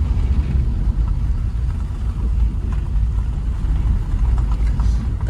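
A car driven by a learner on his first day, a close, loud low rumble of engine and road noise that continues steadily throughout.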